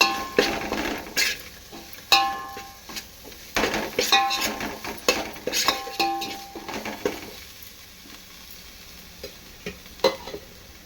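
Chili powder being mixed into a pot of fish curry, with repeated metallic spoon clinks and scrapes against the pot over a faint sizzle, thinning out toward the end.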